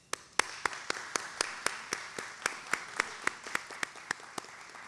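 Applause from the audience at a hospital celebration comes as a steady, rhythmic run of sharp, even claps, about four per second, that sounds fairly close, over a soft background wash.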